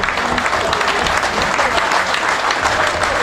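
A football crowd at a South Shields FC match against Banbury United gives a substituted player a warm round of applause, a steady wash of clapping from the stands with faint voices mixed in.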